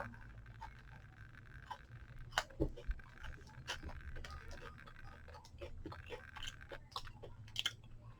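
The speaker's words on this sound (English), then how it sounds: "Okay, so I'm gonna take a bite." Someone bites into a chocolate-covered, Thin Mint–flavored protein bar and chews it, producing soft close crunches and moist mastication sounds that come in irregular bursts, faint and near.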